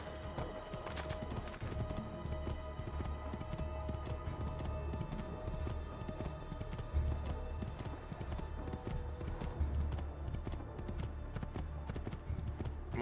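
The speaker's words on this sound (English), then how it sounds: "Horse? Yay, horse!" A horse gallops in Assassin's Creed II, with hooves clip-clopping in a fast, steady rhythm close by and faint ambient game sound beneath.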